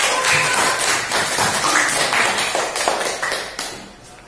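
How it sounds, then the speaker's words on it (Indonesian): A room of people clapping together, brisk and loud, the applause fading out after a few seconds. "Kita beri tepuk tangan untuk kelompok 1."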